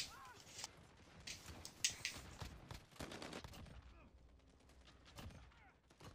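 Rapid shotgun blasts fire in a first-person shooter, with an R9-0 or Origin 12 shotgun, sounding as repeated sharp bursts with scattered impacts under a player's voice.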